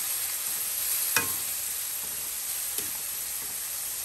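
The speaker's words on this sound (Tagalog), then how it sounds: "Halo-haloin lang yan, tapos ibabalik natin yan dito sa kabilang kawali." Sautéed mung beans being stirred in a pan, a constant soft frying hiss with two sharp spatula scrapes against the pan; no voices.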